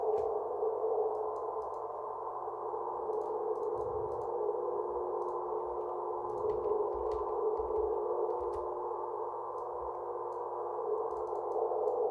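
A synthesized tone routed through a reverb effect, a steady sustained wash with a low hum underneath and faint scattered high blips, holding at an even level for the whole stretch with no voices.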